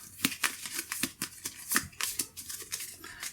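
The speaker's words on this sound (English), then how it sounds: "So this will be shuffled back in." Playing cards being shuffled during a tabletop session of the board game Refuge: Terror From the Deep, a quick run of crisp riffling snaps and slides close by, with no talking.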